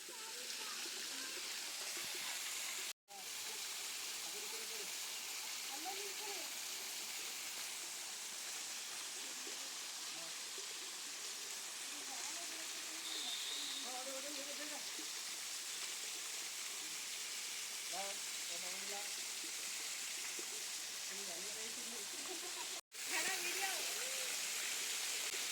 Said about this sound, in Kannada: ಇಲ್ಲಿ ನೀರು ಬೀಳೋ ಸ್ಪೀಡಿ